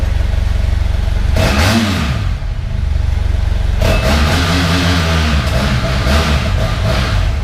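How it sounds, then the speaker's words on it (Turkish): A loud BMW F800GS motorcycle engine revs up hard twice, rising in pitch with each throttle blip, then settling back to a rough idle between pulls. "Normal bildiğin işte GS sesi."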